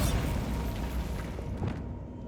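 A Bombarda spell explosion in the Hogwarts Legacy video game gives a dense, rumbling boom that fills the whole clip at moderate level before it fades slightly.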